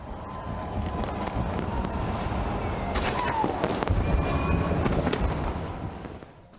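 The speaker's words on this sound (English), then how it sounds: "China entered the new decade with huge celebrations and a fireworks display" A New Year's Eve fireworks display in China crackles and pops in dense, rapid bursts, a steady distant barrage of small explosions that swells and then fades near the end.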